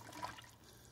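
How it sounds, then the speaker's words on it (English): Bleach is poured onto vegetable oil, giving a soft, faint liquid trickle and splash that lasts about a second, quiet and close with no talk. "Okay, let's pour some bleach in there now."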